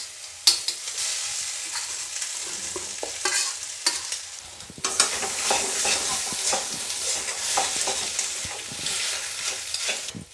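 Potato and egg stir-fried in a pan as a samosa filling, a continuous close sizzle broken by frequent scraping and clicking of a spatula, growing louder and busier partway through, no voices.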